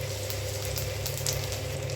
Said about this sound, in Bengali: তো ফোড়নটা ভাজা হয়ে গেছে।